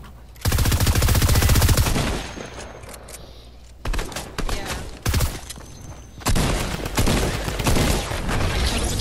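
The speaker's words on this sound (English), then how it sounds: "I kill him with the drum gun" Rapid automatic gunfire from a drum gun in Fortnite, loud sustained bursts of fast shots with brief pauses between volleys and a final long burst.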